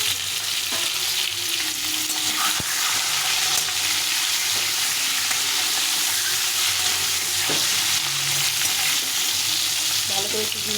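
Loud, steady sizzling of duck eggs frying in hot oil, continuous and close, with faint clinks now and then.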